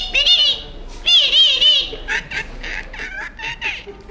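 A man imitates a parrot with his voice, giving shrill, warbling squawks in quick bursts, then a series of shorter, choppy call-like sounds.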